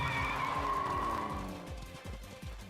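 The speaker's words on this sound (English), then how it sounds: "Now I'm seeing the camels that sound like hot rods, but they're still just move at camel speed." Camels in the Fate/Grand Order video game sound like hot rod cars, with revving, skidding engine noises and repeated tire-squeal bursts in quick succession, moderately loud, with no voices.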